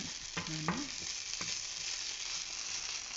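Onion, ginger and garlic paste fries in a pan with a soft, continuous sizzle, a couple of brief utensil scrapes early on, otherwise steady and fairly quiet.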